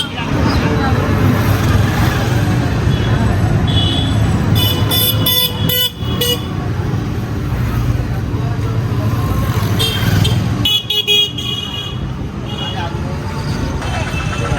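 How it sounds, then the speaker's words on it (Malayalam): Vehicle horns honk repeatedly over a dense, steady roar of crowded traffic near the Kumbh Mela grounds, with several bright toots in quick bursts and voices talking throughout. "ഈ ഹോൺ അടിച്ചിട്ട് നമുക്ക് ഭയങ്കര ദേഷ്യം വരും"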